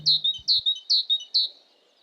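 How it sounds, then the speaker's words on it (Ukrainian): A great tit calls in four crisp, high, repeated notes at an even rhythm, close and clear against near silence, with a brief low hum at the start. "Як тенька синичка."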